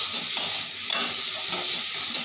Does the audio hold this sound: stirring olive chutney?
yes